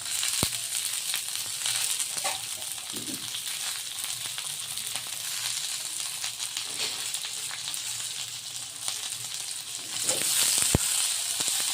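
Cabbage, capsicum and peanuts fry in a pan with onion, giving a steady close sizzle, a few scraping clicks from stirring and a brief louder flare near the end.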